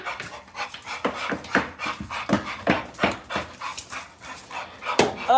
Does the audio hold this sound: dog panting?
yes